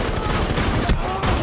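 Rapid gunfire rattles in Rainbow Six Siege, a quick burst of dense shots close by, with game noise around it.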